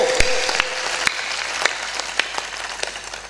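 Scattered handclaps ring out from a crowd at a Hindi religious discourse by Asnag Dev Ji Maharaj, sharp individual claps over a low hum, fairly loud and irregular rather than a sustained ovation.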